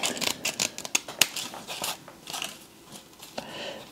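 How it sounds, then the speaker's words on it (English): Scissors snip through excess Velcro trimmed from an embroidered QR code patch, giving a run of close, crisp cuts and crunchy clips in an irregular rhythm with no talking. "Let me put my Wonder Clips away and cut this excess off."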